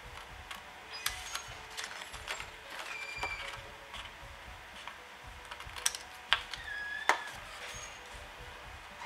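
Paper is cut for a scrapbooked candle table centrepiece, heard as quiet, close, crisp snips and small clicks. They come in an irregular series with faint rustling in between.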